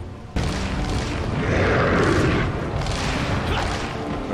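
A special rocket launcher explosion in Resident Evil 4 bursts in suddenly as a loud, deep boom, then rolls on as a long rumbling roar that slowly fades.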